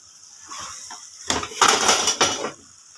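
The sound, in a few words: stirring kachnaar mutton curry in a pot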